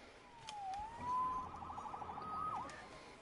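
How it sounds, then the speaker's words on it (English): A police siren wails in the Spider-Man video game, a fairly faint rising and falling tone over a low ambient background. "Saved by the siren."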